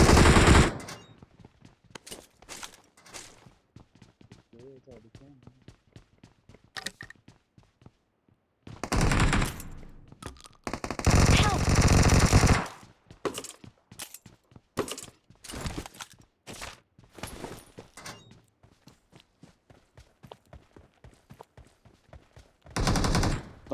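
Gunfire in a multiplayer shooter video game, with rapid automatic bursts and single shots in uneven clusters, some loud and close, others sparse and quieter, across a long stretch with no talking.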